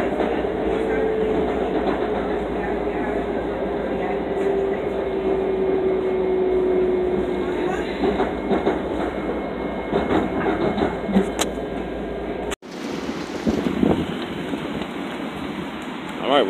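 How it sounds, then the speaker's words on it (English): A Main Line commuter train rolls along with a steady rumble and clatter, then comes to a stop at Deer Park station, where the noise cuts off abruptly and quieter ambient sound follows with a few knocks. "the train has mysteriously stopped over here"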